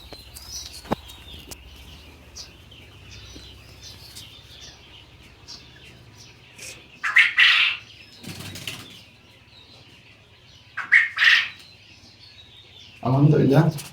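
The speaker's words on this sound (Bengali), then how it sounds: "আজকে আসছি আমাদের রানিং ডিম পাড়া কোয়েল পাখির খামারে রানিং পাখিকে খাদ্য এবং পানি দিতে।" Quails on an egg-laying quail farm give a few brief bursts of wing flapping and chirps between quieter stretches, fairly close, against a low background hum.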